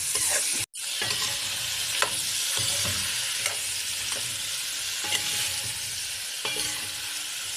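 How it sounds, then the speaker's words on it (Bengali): Oil and spices with turmeric and cumin powder sizzle steadily in a hot pan, a continuous close frying hiss with occasional stirring scrapes and a brief break near the start, no voices. "এখন তেল দিছি। তেলটা ভাজি হলে তারপরে দেব আনাজ।"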